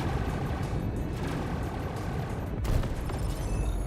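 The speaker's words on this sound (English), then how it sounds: "I like these guns. Like a laser rotary gun." A rapid, continuous burst of laser rotary gun fire in the Star Citizen space game, loud and dense with a sharper surge near the end, layered over a rumbling ship background.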